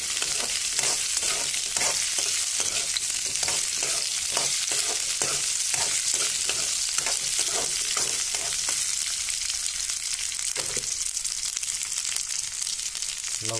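Potatoes frying in oil in a pan, with a steady sizzle under repeated scraping and stirring strokes of a spatula, close and fairly loud, with no talk.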